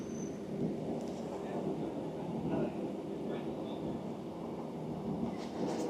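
A Northern passenger train rumbles along between Goole and Leeds, passing near the East Coast Main Line, with a steady broadband roar of wheels and carriage noise throughout and faint voices underneath.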